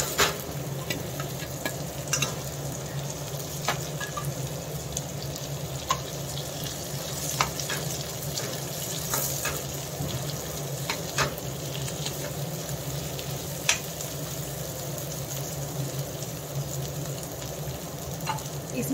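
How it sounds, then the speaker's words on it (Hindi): Potatoes fry and roast in a pan, a steady close sizzle broken by scattered stirring clicks and scrapes, with no one talking. "तो ये हो गई है, अब इसमें डालूंगी आलू"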